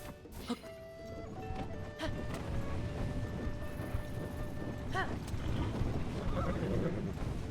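Hooves clopping steadily on hard ground with a horse whinnying, plus clanks and mechanical noises layered over a busy game soundscape.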